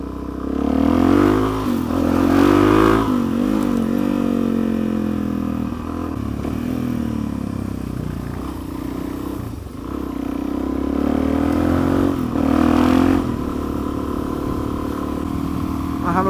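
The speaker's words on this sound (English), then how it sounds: "I have a bike behind me and I don't know who they are." A motorcycle rides close behind, its engine droning loudly and steadily with rising revs and gear-change swells throughout, no talking over it.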